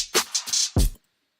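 The last part of a hi-hat loop, cut for a beat, plays as a short run of bright, hissy cymbal hits ending on a heavier thump before cutting to silence.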